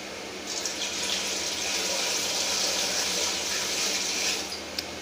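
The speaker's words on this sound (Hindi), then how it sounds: "मिक्सर में 1 लीटर पानी डालें" Steady rush of one litre of water pouring into a mixer, a smooth even gush lasting several seconds before easing off.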